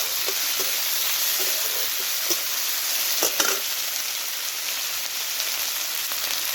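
Spices fry with grated ginger and tomato in a pan, a close, dense sizzle with stirring scrapes and a few louder clatters of the utensil partway through, no talking.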